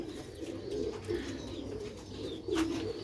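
Pigeons kept by a hobby breeder in Punjab cooing softly in a low, steady murmur, with a few brief chirps on top and no voices.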